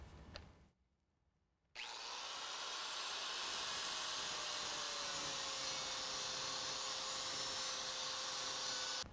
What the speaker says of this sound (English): We need to grind that down so it's about 3/8 of an inch from the inside of the pocket.